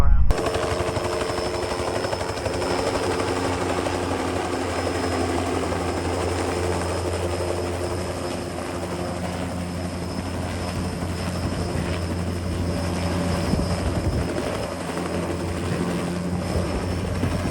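A police air support helicopter landing on an airport's east ramp, its rotor chop and turbine whine loud and close, a dense steady roar filling the whole stretch.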